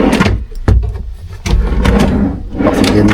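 A wardrobe drawer in a hotel room slides open or shut with a couple of sharp wooden knocks and rattles, fairly close and loud against a busy room background.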